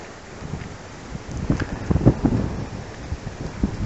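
Strong wind blowing outdoors under an afternoon sky, a rough, rushing roar that swells in gusts against the microphone and stays loud to the end.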